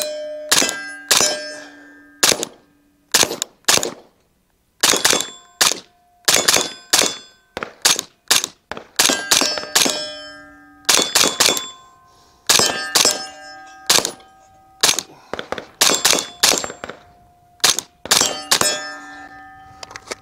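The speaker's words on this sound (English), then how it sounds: "there's 30 rounds suppressed" An IWI Carmel rifle fires 30 rounds through a suppressor in quick irregular bursts, each shot a sharp metallic crack with a ringing clang, loud and close with brief gaps between strings.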